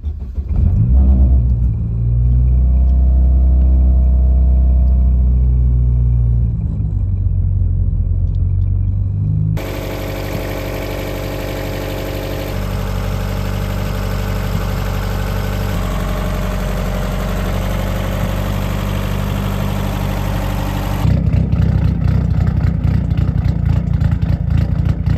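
A turbocharged Chevrolet Cruze fitted with FuelTech FT550 engine management rumbles through a start attempt, then settles into a steady, loud, close idle with a hissy mechanical whine that lasts for several seconds, and the tone shifts near the end.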